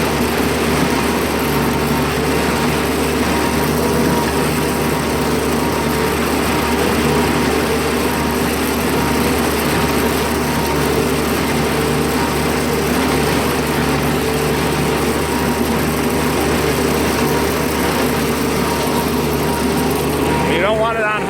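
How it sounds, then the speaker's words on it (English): An Oliver tractor drives a hay baler's bale thrower in a steady, loud mechanical drone that holds constant throughout, with dense engine and machinery noise filling the field. "Speeds up the thrower so it throws farther."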